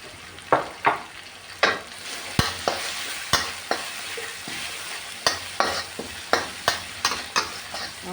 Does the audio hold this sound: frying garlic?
yes